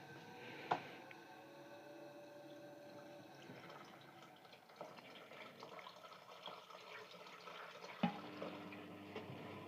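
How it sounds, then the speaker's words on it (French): Water trickles gradually into the detergent drawer of an Asko washing machine after a detergent-box hose repair, a steady faint flow with a couple of small knocks and drips, close by and without speech. "Je vais mettre l'eau petit à petit"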